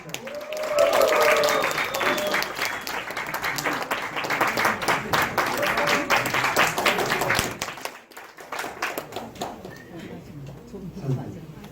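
High school students in a lecture hall applaud a guest speaker, with loud sustained clapping and crowd murmur for about eight seconds, tapering off after a brief lull.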